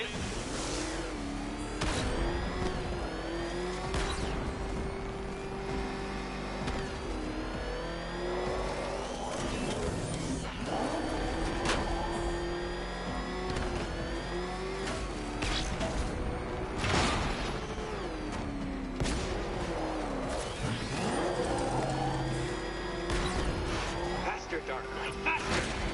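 In the Batman video game, a car engine revs and roars continuously, with whooshes and crashing impacts mixed into a dense game soundtrack.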